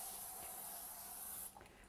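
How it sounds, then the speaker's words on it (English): Non-stick cooking spray hisses steadily from a can onto aluminum foil lining a sheet pan for saltine toffee, one continuous close burst lasting about a second and a half before cutting off. "You have to spray the aluminum with the non-stick spray."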